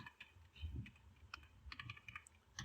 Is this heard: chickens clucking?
no